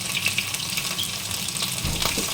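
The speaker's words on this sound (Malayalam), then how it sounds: "നല്ല ചെമ്മീൻ്റെ കറി വെട്ടി തിളച്ചുകൊണ്ടിരിക്കുന്നുണ്ട് കേട്ടോ" A prawn curry bubbles vigorously in a pot on the stove, a continuous close hiss and sizzle with soft popping, with no voices over it.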